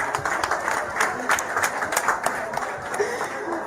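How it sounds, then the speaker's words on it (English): An audience claps and applauds during a political program event: a dense, steady patter of many hands lasting throughout, moderately close, with a murmur of voices mixed in. "Please give her a hand clap."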